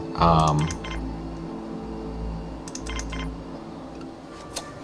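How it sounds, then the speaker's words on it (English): Computer mouse clicks at a desk during a Planetbase game session, a few faint sharp ticks scattered over low background hum, with a burst of keyboard-like tapping early on. "I know you can hear my mouse clicking."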